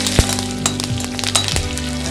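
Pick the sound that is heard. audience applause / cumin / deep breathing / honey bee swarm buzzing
cumin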